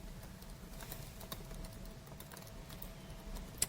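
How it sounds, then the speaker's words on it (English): Quick typing on a computer keyboard, faint rapid key taps scattered over a quiet background hum, with no voices. "typing something quickly."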